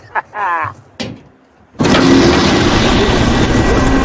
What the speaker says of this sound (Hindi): ये ऑटो स्टार्ट है।